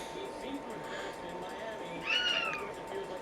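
A house cat meows once, a short rising-and-falling call heard over steady room hum and faint background noise.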